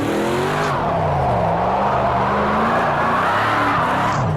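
Chelsea DeNofa's RTR FD Ford Mustang drifting in Project Cars 2, a loud sustained engine roar with shifting revs and tire squeal throughout, no voices.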